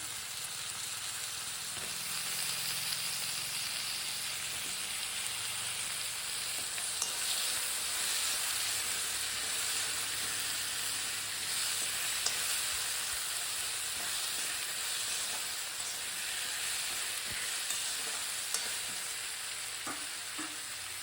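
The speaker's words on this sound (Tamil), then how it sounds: "இப்போ நம்ம கட் பண்ணி வச்சுருக்க கத்திரிக்காயும் உருளைக்கிழங்கையும் இதில் சேர்த்துக்குவோம்" Eggplant and potato pieces fry in a pan with sautéed onion and tomato for sambar, giving a steady broad sizzle with occasional stirring clinks, close and constant, and no talking.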